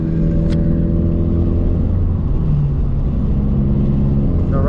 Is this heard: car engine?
yes